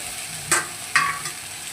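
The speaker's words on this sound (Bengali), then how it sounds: "ফুলকপিটাকে এর সাথে একটু ভালো করে নেড়ে চেড়ে নেব" Cauliflower being stir-fried with spiced potatoes in a pan, a steady close sizzle broken by two or three sharper scraping stirs, no talking.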